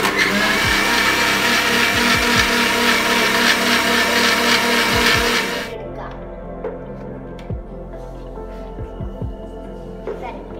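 Kitchen blender grinding amla (Indian gooseberry) with water for juice, a loud, steady high-pitched whirring roar for several seconds that cuts off abruptly, followed by quiet clicks and a voice speaking.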